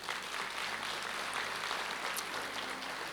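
A church congregation applauding, a dense, even wash of many hands clapping at steady volume for a few seconds, heard from within the room.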